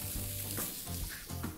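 Asparagus, ramsons and leek fry together in a hot pan, a close, constant sizzle with light stirring scrapes and small pops running through the whole moment.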